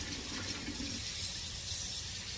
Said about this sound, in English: I wash it in the water, and then I rinse it